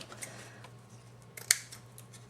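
Scissors trimming the ends of a paper card in a craft project, a single crisp snip standing out near the middle against faint room hum, close and quiet.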